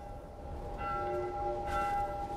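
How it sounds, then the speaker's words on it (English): Church-like bells ringing in The Last of Us Part I, a faint distant toll that swells twice with soft sustained tones over a low ambient rumble, no voices over it. "I hear bells."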